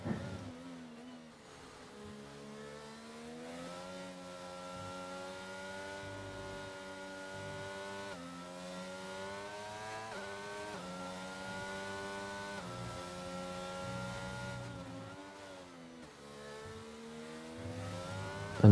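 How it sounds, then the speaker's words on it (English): A race car engine in a racing video game drones steadily on an out lap from the pit lane at Abu Dhabi, its pitch rising and falling through gear changes, loud and continuous throughout. "He is the first driver to come out of the pit lane, and he is on his out lap"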